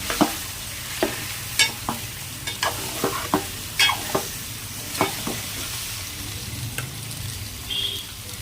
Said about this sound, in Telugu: వీటిని ఒక నిమిషం పాటు అలా ఆయిల్లో వేగనివ్వాలి.